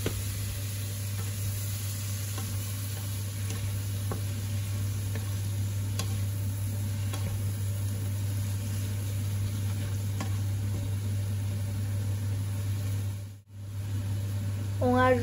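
Broccoli tossed into a hot pan and stir-fried with shrimp, a steady sizzle running throughout with faint scraping stirs, a constant low hum beneath, and a brief drop near the end.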